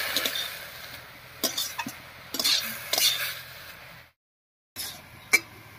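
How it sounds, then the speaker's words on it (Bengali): Mixed leafy greens with salt being stirred in a pan, close scraping and clattering of a metal spatula in uneven bursts over a soft sizzle, cut by a brief silent gap before the stirring resumes. "লবণ দিয়ে শাকটা খুব ভালো করে মিশিয়ে নিয়েছি"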